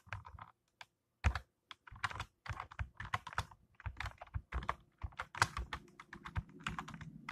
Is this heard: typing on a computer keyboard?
yes